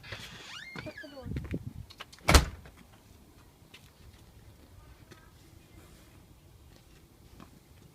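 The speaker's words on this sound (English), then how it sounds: "Shut the door." A door is shut once with a single sharp, loud thud in the middle, following brief talking. Quiet room tone fills the rest.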